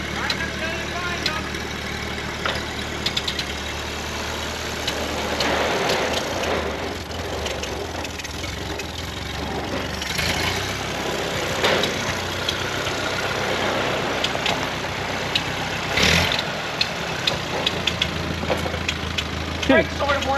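A 1939 Ford 9N tractor engine idles with a steady low rumble and irregular knocks, close and loud, while someone talks over it.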